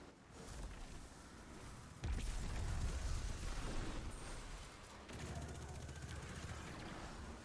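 Gunfire in a Destiny 2 raid, Vow of the Disciple: steady rapid shooting that jumps louder partway through and continues to the end, fairly close, with muffled voices beneath.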